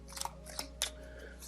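Tarot cards are drawn from a deck in a few faint, quick rustles and soft snaps of card stock, heard close and alone, with no talk.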